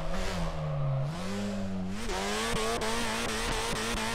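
Car drifting around the north course in the video game Drift 21, with a steady droning engine and sustained tire squeal that rises in pitch as the car revs, loud and continuous.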